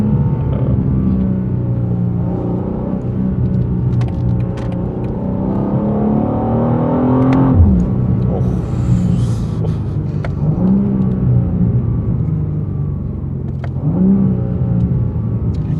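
A 2024 BMW M2 accelerates hard through the gears, its engine note climbing in pitch, dropping sharply at each shift and climbing again, loud and close from inside the cabin.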